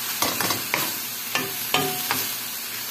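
Vegetables for pancit being stirred and fried in a pan, with a steady sizzle broken by several sharp scraping clacks of the utensil, close and moderately loud, with no talking.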